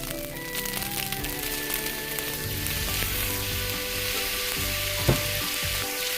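Fried rice stir-fried with dark soy sauce in a hot pan, a continuous loud sizzle with scraping and stirring clatter, one sharp knock partway through, no voices.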